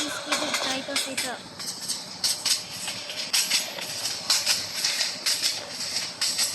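A train runs in the video game Train Simulator Bangladesh, with a steady rolling rumble, rhythmic clattering bursts and a tonal horn-like note near the start, while a voice talks over it.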